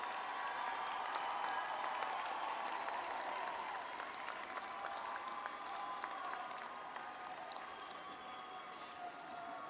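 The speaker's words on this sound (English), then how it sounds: "And give them a huge round of applause." Graduates at a community college commencement ceremony applaud their families, a steady, dense wash of clapping from a large crowd in a big hall that continues evenly throughout without letting up.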